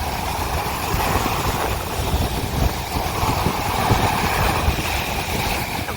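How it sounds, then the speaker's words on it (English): Strong morning breeze buffeting the microphone at the beach, a continuous low rumbling roar with ocean surf blended underneath, loud and unbroken, no voices. "Accompanied by this strong breeze this morning."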